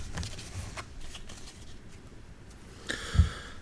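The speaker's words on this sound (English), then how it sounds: "All animal cards, pedigree cards and the red cards will be shuffled into one big pile." Cards from a board game, animal cards, pedigree cards and red cards together, are shuffled into one big pile, giving soft riffling and flicking that runs steadily, with a sharper slap near the end.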